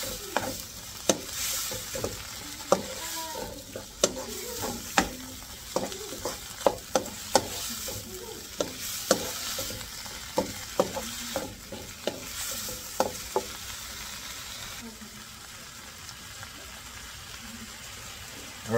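Shrimp frying in a pan for seafood pasta, a continuous close sizzle with frequent sharp taps and scrapes of a utensil stirring, steady and moderately loud.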